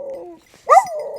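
A dog gives one sharp, loud bark at close range, preceded by a softer whine-like tone, short and isolated with no talk.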